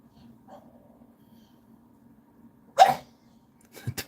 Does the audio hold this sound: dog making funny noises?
yes